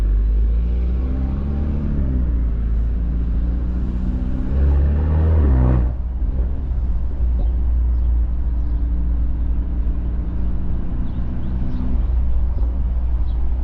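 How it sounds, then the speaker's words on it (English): A four-cylinder car engine hums steadily from inside the cabin while driving at night on a lit street, a low continuous drone with a brief rise in revs partway through, no talking. "enjoy the sound of this car because it sounds pretty decent for a 4-cylinder"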